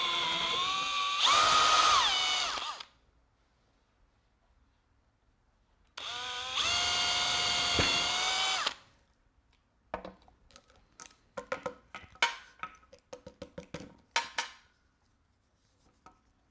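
A power drill bores through a DIY camera harness strap in two loud, sustained whining bursts separated by a pause, followed by scattered light clicks and handling noises.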